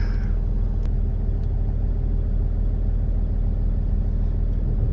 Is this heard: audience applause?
no